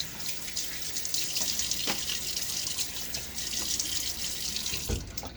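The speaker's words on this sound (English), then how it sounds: "splash my face with water" Running tap water splashes steadily in a sink as a face is rinsed during a wet shave, a continuous bright rush with a few brief drips and splashes, close and fairly loud, with no talking.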